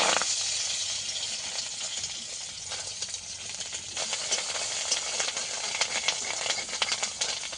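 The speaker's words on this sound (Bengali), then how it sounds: "ডিমটা এইভাবে চেটে চেটে ভেজে নেব।" Fish roe fries in a little oil in a pan, a steady sizzle and crackle, a continuous close hiss with small pops throughout.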